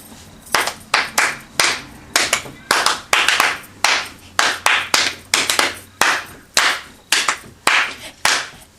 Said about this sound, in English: Start it off with a hand clap